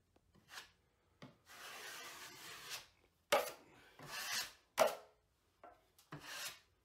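A drywall knife scrapes and rubs in short separate strokes as compound is spread over screw holes on a ceiling, each swipe a quiet raspy hiss with pauses between.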